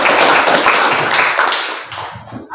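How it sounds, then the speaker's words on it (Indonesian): Classroom students clapping their hands together, a short burst of dense, loud clapping that thins out and fades within a couple of seconds. "Oke, tepuk tangan dulu."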